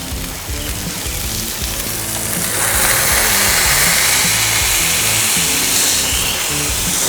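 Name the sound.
smash burger patty sizzling on Loco Cookers griddle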